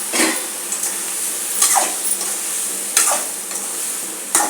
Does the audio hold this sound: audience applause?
no